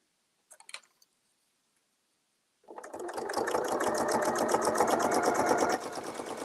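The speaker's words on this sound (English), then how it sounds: "just start sewing" Sewing machine on a sewing-machine suspension system stitching a free-form quilt design, a steady fast mechanical chatter that starts after a few quiet clicks and runs loud and continuous, easing slightly near the end.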